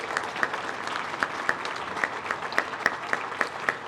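An audience applauds award nominees at a small business of the year awards program, a steady wash of clapping with sharper individual claps poking through, moderately close and alone without speech.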